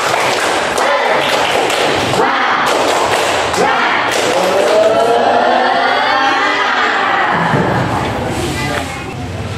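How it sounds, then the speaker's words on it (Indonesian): A class of students performs a rhythmic spirit clap, sharp group claps in a patterned beat near the start, with many voices chanting loudly alongside. "kita tepuk semangat terlebih dahulu"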